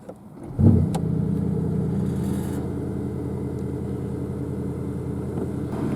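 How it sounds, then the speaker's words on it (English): A Porsche Panamera Turbo S E-Hybrid Sport Turismo with the sport exhaust set to Sport Plus fires up with a quick, quiet start. Its V8 then catches into a loud, deep, steady idle rumble that continues alone. "first let's start this thing up and see how it sounds"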